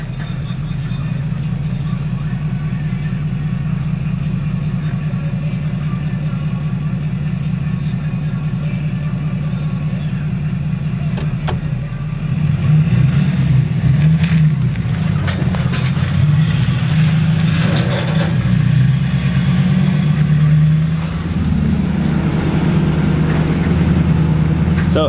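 Straight-piped diesel vehicle driving, a heavy low exhaust drone heard from inside that swells into a rougher, louder rumble partway through as it works harder, continuous for the whole stretch with no talking.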